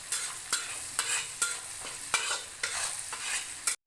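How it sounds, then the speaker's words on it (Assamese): A spice masala mixture of ground cumin, coriander and vegetable masala frying in a pan for samosa filling, stirred in a steady rhythm with repeated scraping strokes over a continuous close sizzle, no voices. "2 মিনিটমান ভালকৈ ভাজি থাকিম"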